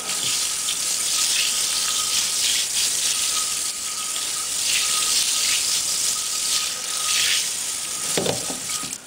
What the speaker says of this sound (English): we'll wash it again with fresh water here